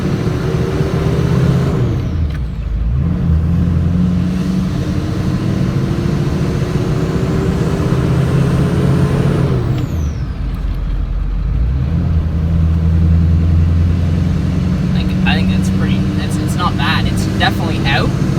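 A Toyota Tundra CrewMax pickup truck with a new front end and replaced bed drives on a road, its engine droning and rising through gear changes over road and tyre rumble, heard from inside the cab.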